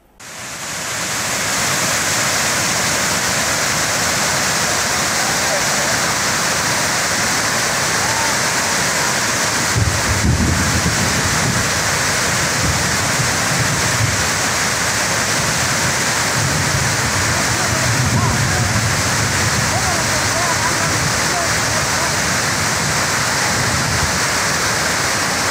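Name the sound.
water overflowing from Srinivasa Sagar reservoir after heavy rain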